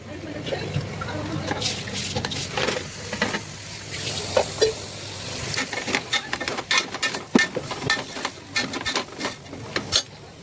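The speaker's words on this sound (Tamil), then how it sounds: "இப்போ கறி போட்டுக்கலாம் மட்டன் போட்டுக்கலாம்" Mutton sautéing in a pan crackles and sizzles, with frequent spatula scrapes and clatters in an uneven rhythm.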